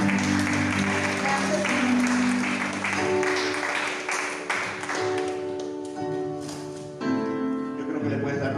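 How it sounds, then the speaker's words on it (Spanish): A church congregation applauds, a dense wash of clapping that fades gradually while a sustained keyboard or organ plays and a voice speaks over it. "Yo creo que le puedes dar más fuertes aplausos"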